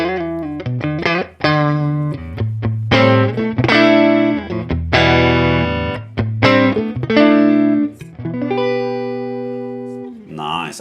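Electric guitar played on the neck pickup through a Woodrow amp plugin, a driven, distorted tone with sustained chords and single notes ringing in a steady riff, loud and close, with no talking.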